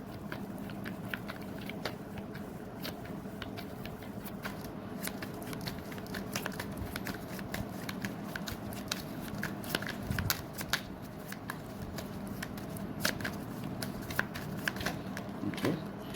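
Tarot cards are shuffled continuously up close, a dense flutter of riffles and soft slaps with crisp clicking edges running steadily throughout, with no talking.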